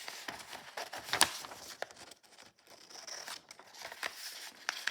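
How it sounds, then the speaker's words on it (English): Scissors cut quickly through a paper picture, giving a close, faint series of irregular snips and crisp paper rustles with brief pauses between cuts. "To save time, I'll just cut it out very quickly."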